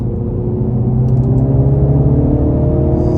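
A 2023 Mini Cooper S engine drops a gear during a spirited test drive, with a steady, loud low rumble of motor and road noise carrying throughout.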